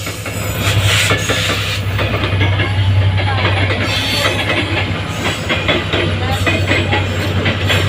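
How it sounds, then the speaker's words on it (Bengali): The Banalata Express passenger train rumbles past close by at Tongi, Bangladesh, with rhythmic clickety-clack of wheels over rail joints and a heavy low drone, loud and steady throughout. "রাজশাহী অভিমুখী বনলতা এক্সপ্রেস ট্রেনটি টঙ্গি আউটার অতিক্রম করে যাচ্ছে"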